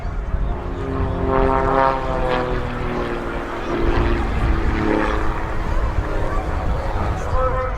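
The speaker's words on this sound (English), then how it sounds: "Good photo opportunity coming up as the two aircraft pull together into their next manoeuvre." Two propeller aircraft flying together at the Teesside Air Show 2022: a loud, continuous droning engine hum with shifting tone as they pass, and an announcer talks over it throughout.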